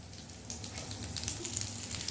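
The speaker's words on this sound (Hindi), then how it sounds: "अनियन रिंग्स जो हैं वो हमने जो फ्राई पैन में रख दिए हैं" Onion rings frying in a frying pan on a stovetop give off a steady, close crackling sizzle that grows slightly busier after the first half second. No one speaks.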